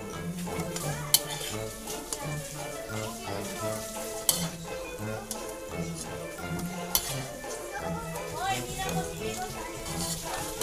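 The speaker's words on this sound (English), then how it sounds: "we're gonna fry the next batch" Very small fish fry in a pan in a home kitchen with a steady, busy sizzle and scattered utensil clinks, under tonal background music.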